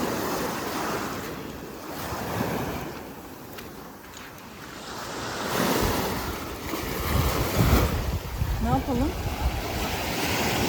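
Rough sea waves rolling onto a beach at Akçakoca on a rainy night, a continuous loud surf roar that swells and recedes, with gusty wind buffeting the microphone.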